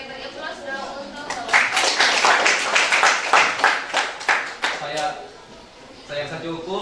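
Applause from an audience at a school academic supervision coaching session in Indonesia swells into a run of irregular clapping bursts that last several seconds, then thins out while a voice talks over it.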